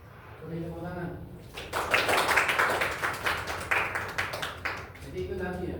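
Applause from a small group in a classroom after a student's answer, a few seconds of brisk clapping between stretches of a teacher speaking.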